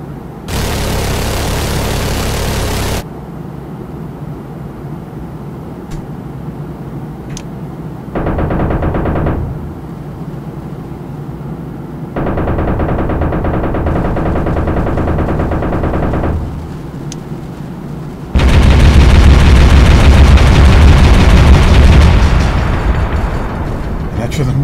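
AC-130 airstrike in the destruction game Teardown, with loud blocks of heavy gunfire and booming explosions alternating with quieter stretches, ending in a sustained roaring barrage.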